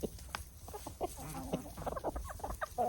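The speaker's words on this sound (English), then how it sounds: "we have some chickens in the run" Chickens in an open run cluck and murmur in short, scattered calls, fairly close but soft, with no talk over them.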